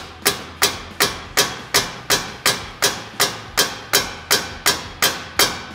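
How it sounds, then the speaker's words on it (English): A hammer strikes a stuck part on an old airplane in a steady series of about fourteen sharp metallic blows, evenly spaced roughly every 0.4 seconds, close and loud with no talking. "basically you just hit it with a hammer"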